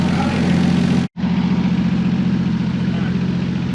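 A Toyota Mk3 Supra engine idles steadily, a loud, even low rumble with a constant pulse, broken by one very brief cutout before settling back into the same smooth idle.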